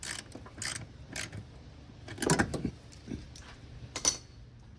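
A bolt is tightened on a brake booster during work on a third-generation Toyota 4Runner. Quiet bursts of ratchet clicking repeat in short spurts, with a louder, denser run of clicks in the middle.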